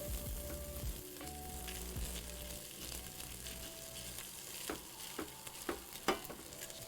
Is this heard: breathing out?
no